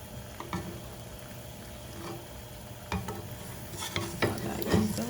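A scallion pancake frying in a pan gives a low, steady sizzle close up, broken by several sharp scrapes and clatters of a spatula, louder near the end.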